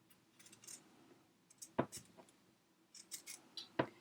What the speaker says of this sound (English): Now I'm going to come in and just trim down this seam allowance.